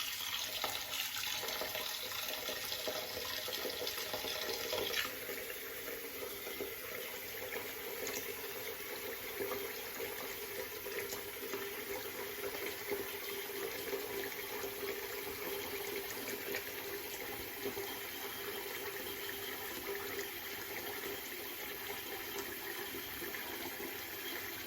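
Tap water running steadily to rewet drying shaving lather for a straight razor shave, a continuous close hiss and splash with no break.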